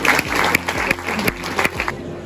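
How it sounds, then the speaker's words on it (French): A school audience at a 2020 citizenship assembly claps for a college mini-enterprise team, giving steady, dense applause with sharp clap bursts throughout the short stretch. "si vous pouvez les applaudir d'ores et déjà"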